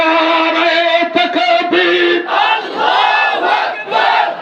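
A crowd chants slogans in unison in the Prophet's name at a religious gathering. Loud, massed voices rise and fall in repeated rhythmic bursts, close and sustained throughout.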